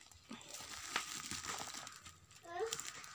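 Plastic packaging on a parcel of sewing and craft tools crinkles and crunches in short bursts up close during an unboxing, with quiet voices, including a child's, talking underneath.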